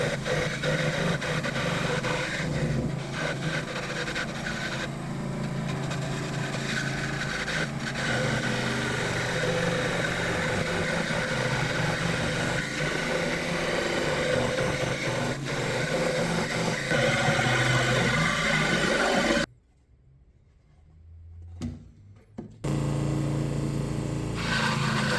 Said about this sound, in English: Use a jigsaw or a scroll saw carefully to cut out the cloud shape.